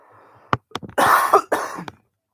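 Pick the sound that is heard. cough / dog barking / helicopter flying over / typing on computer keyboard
cough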